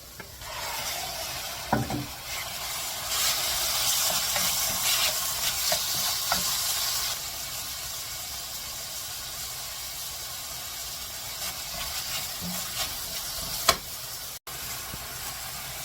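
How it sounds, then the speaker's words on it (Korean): Meat for gochu japchae stir-fries in an oiled pan, a steady sizzle that is louder at first and then softer, broken by occasional scraping and tapping from the utensil. "고기를 먼저 볶아내겠습니다"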